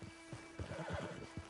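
A horse in the video game Red Dead Online gives a short neigh mixed with a few clip-clopping hoof steps, heard quietly and close.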